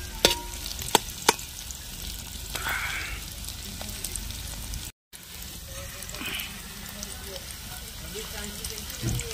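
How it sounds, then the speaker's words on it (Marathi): Onion sizzles steadily in hot oil for tempering on a wood-fired stove. There are a few sharp clicks near the start and a brief dropout midway, and faint background sounds sit under the frying. "तर कांदा आपला फोडणी चाललेला आहे बघू शकते मित्रांनो."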